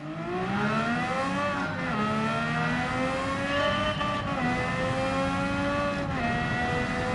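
A 1950 Formula One car's engine screams through the gears at Monza in Gran Turismo 7, loud and close throughout, with the pitch rising steadily and dropping sharply at each upshift, accompanied by a faint tire squeal.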